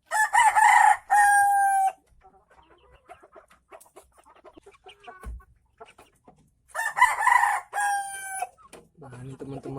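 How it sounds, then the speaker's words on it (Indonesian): A roughly five-to-six-month-old jungle fowl crows twice, the loud calls near the start and again midway, with someone talking quietly in between. "Ayam hutan asli nih."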